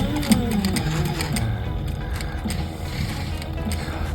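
A sewing machine stitches steadily from the corner of fabric while trimming an inside hole, giving a continuous mechanical whir with a fast rhythmic needle clatter at close range.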